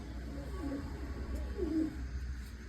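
Two soft pigeon coos sound one after another at moderate distance from a pigeon coop, over a low, steady hum.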